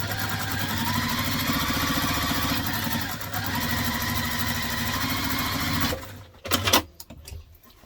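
Sewing machine stitching a fabric cross-body bag at regular construction stitch length, a steady close motor whir with rapid needle rhythm for about six seconds, then stopping with a few handling clicks.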